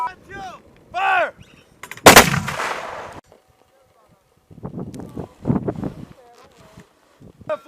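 An M240 or M249 machine gun fires one loud, sharp, roughly one-second burst at close range, set between shouted commands.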